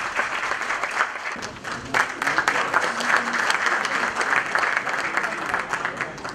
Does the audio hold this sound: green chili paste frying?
no